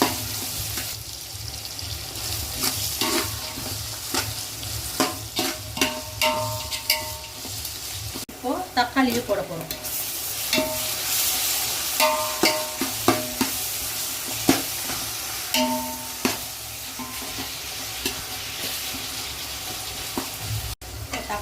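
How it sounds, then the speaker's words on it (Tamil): Tomato with ginger, curry leaves and green chili sautés in a pan, a continuous sizzle under frequent scraping stir strokes, close-up and steady throughout with no clear talk. "தக்காளி போட்டோம் அது சும்மா லைட்டாக தான் வதங்கணும்"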